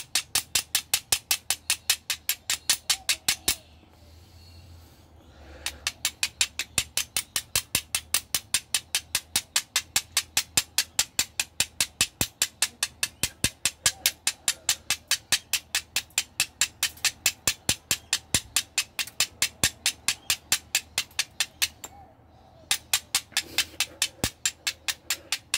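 Flint and steel striking sparks onto Daldinia concentrica fungus: a fast, steady series of sharp metallic clicks, roughly three per second, broken by two short pauses, with no voices.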